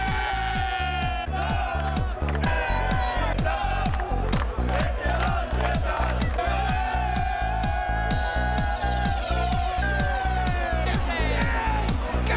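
Loud arena crowd at the Perth Darts Masters, a dense steady roar of cheering and chanting with rhythmic clapping or stamping beats throughout, building further in the second half.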